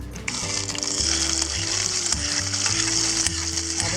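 Mustard seeds, dried red chillies and urad dal crackle and sizzle steadily in hot coconut oil, a close, continuous frying hiss with popping bursts throughout, no talking.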